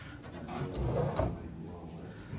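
Wooden museum display drawer being pulled open, a soft low sliding rumble with a couple of dull knocks, fairly close but quiet against room noise.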